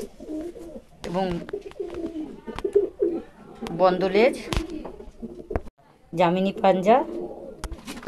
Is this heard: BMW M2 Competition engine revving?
no